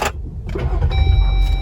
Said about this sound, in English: now for example, when we switch on the car,